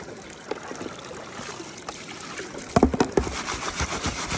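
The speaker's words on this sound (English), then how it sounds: "that water extra coming out, taking dust, useless material" Excess water trickles and drains off gold concentrate as it is shaken up and down to wash out dust and waste material, a low, steady splashing that grows into several louder sloshes near the end.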